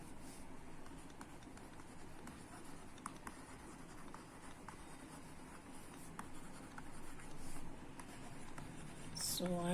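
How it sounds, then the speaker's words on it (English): A stylus pen scratches and taps on a pen tablet with a string of light, rapid strokes, steady and close, heard over a low background hum. "here I am just writing what I want"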